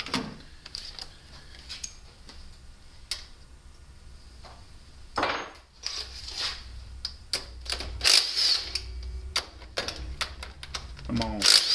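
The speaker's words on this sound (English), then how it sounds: "Now we're going to take and remove the 4 retaining bolts off the top of this AC compressor." A wrench works the retaining bolts off an AC compressor atop a GM Vortec 5.7 350 engine, giving rapid ratcheting clicks in bursts with metallic clanks, and someone talks over parts of it.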